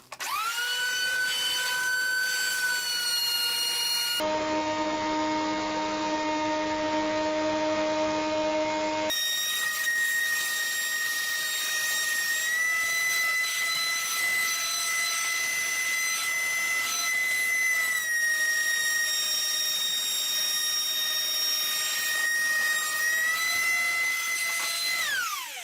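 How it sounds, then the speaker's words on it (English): A thickness planer mills cedar boards into square stock, a loud continuous high whine with a steady tonal hum that briefly changes character partway through, running alone without talk. "I'll switch the planer from thickness planing mode to widthness planing mode and run them through"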